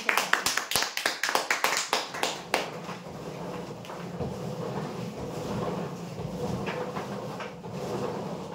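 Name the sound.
applause for a prize draw winner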